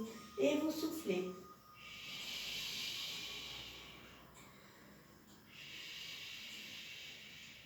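Steady breathy exhale during a back and thigh stretching exercise, a soft airy hiss that swells and fades over several seconds after a brief louder voiced moment at the start.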